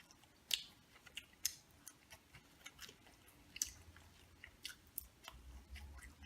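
Close-up chewing of In-N-Out fries, with soft irregular bites and mouth sounds at a quiet level. A few sharper crunchy clicks stand out, and no one speaks.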